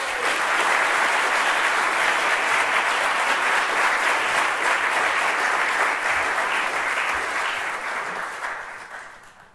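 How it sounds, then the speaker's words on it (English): A large crowd applauds loudly and steadily for several seconds as a NASA flight director is welcomed to the stage, a dense wash of clapping that tapers off near the end. "I'd like you to welcome to the stage, with thunderous applause from NASA, Matt Abbott."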